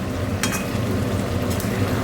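Raw armach (spiny eel) fish pieces fry in a pan with a steady, close sizzle, broken by two brief scraping stirs. No one speaks.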